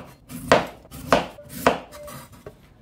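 A knife chops through raw mango in four sharp, evenly spaced strikes on a board, each cut crisp and close with a short woody knock, no voices around it.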